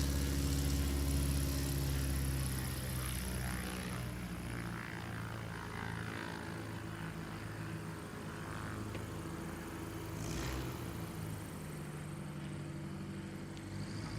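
A STOL propeller airplane at a morning practice event in Sulphur Springs, Texas, with a steady, loud engine and prop drone that throbs through the whole stretch, swelling near the start and easing slightly toward the end.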